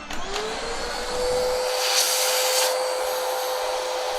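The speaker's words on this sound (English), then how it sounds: "you get the big beefy vacuum cleaner" A big, powerful vacuum cleaner runs continuously at close range during a Sega Game Gear repair, its motor holding a steady whine with a slight rise in airflow roar partway through, no talking.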